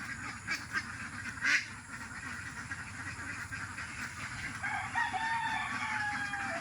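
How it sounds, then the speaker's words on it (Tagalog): Ducks and other fowl calling around their pen at a rural home, with a rooster crowing among them; overlapping quacks, clucks and crows come from near and far over steady outdoor background noise. "Puntahan natin yung itik sa bahay niya."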